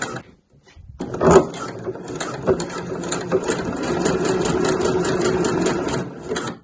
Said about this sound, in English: My machine automatically does a locking stitch to begin with.